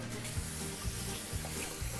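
Water pours into a pot with vegetable bouillon to make chicken stock, a soft, continuous splashing and trickling at low level, with no talk over it.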